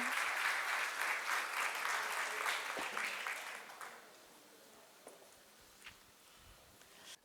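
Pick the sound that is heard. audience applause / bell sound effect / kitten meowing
audience applause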